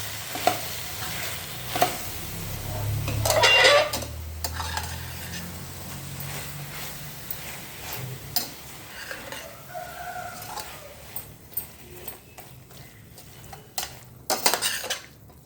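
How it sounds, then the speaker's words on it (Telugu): A utensil scrapes and taps against a pan while ginger garlic paste is stirred into palak rice with soyabeans, giving intermittent clinks and scraping over a soft sizzle. "వేసుకున్న తర్వాత మంచిగా ఇదంతా కలిసేలాగా మనం ఇందులో కలిపేసుకోవాలి."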